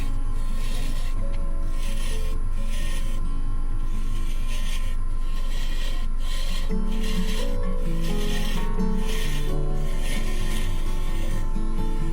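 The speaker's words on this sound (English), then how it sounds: "Next, I add a small decorative touch to the bottom of the bowl using a skew chisel." A skew chisel scrapes and cuts into the bottom of an olive wood bowl spinning on a lathe, a steady rasping rub with rhythmic pulses over a constant low motor hum, close and continuous.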